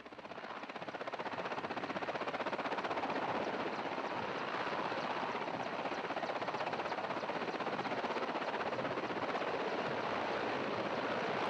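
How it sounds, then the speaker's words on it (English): Steady, loud rotor and engine roar of helicopters taking off in Houston, Texas throughout, with a constant broadband wash of noise and no voices. "As you can tell just from the helicopters taking off"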